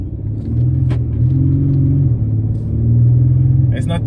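An Audi car's engine hums as it accelerates at light throttle, heard from inside as a steady low drone that rises slightly in pitch and loudness, with a passing click and a brief voice near the end.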